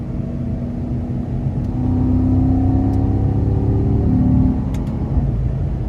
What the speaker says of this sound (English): And I just love the sound that this exhaust makes.